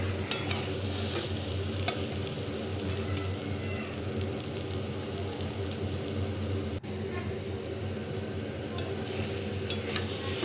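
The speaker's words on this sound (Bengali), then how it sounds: "আলু ভেজে সব রকম মশলা দিয়ে কষিয়ে নিচ্ছি।" Potatoes and pointed gourd fry with spices in a pan, a steady close sizzle running throughout with intermittent scraping and clinking of a stirring spoon, with no talk.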